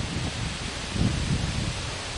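Wind blows through leaves outdoors, a loud, steady rustling roar mixed with buffeting on the microphone, with a stronger gust near the middle and no talking.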